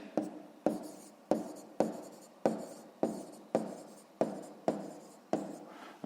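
A pen scratches on paper while someone works a sixth-grade math exercise by hand: about ten quick, evenly spaced strokes, close and soft, with no talking.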